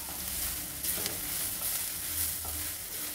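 A spice mixture for chitranna rice warming in a pan, with a steady sizzle and frying hiss and occasional scrapes of stirring, close and continuous without any talk.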